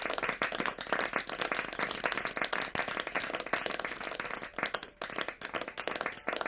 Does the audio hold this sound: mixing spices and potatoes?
no